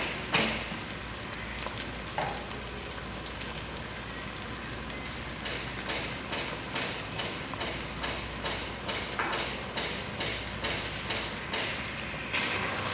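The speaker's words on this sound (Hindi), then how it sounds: "और 2 मिनट के लिए टमाटरों को पका लेंगे नरम होने तक।" Tomatoes cook in a pan, giving a soft, continuous sizzle with light crackling pops and a faint repeating rhythmic ticking, quiet and close, with no talking.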